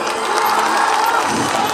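A crowd cheers and shouts for a Bhojpuri singer, a dense, steady roar of many voices with possible clapping mixed in, loud and continuous throughout the short burst.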